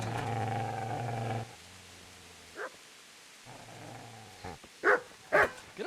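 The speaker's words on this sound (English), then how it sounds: "Get away, you mutt!" Dog growling in the medieval role-playing game Kingdom Come: Deliverance, a low sustained rumbling growl that cuts off and resumes, followed by a few sharp, louder bark-like bursts near the end.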